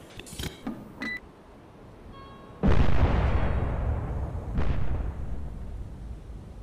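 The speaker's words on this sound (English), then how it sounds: "Missile launch detected." A missile fires in the submarine game Cold Waters after a few short beeps: a sudden loud roaring blast that sustains for several seconds with a second surge partway through.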